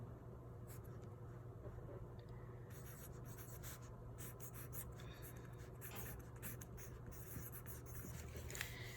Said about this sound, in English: The first thing we do is we write our name.